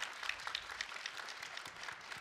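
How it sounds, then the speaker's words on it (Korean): Audience at an AFC plan announcement giving a brief, faint round of applause, a soft steady patter of claps heard from a distance. "큰 박수 한번 쳐주세요"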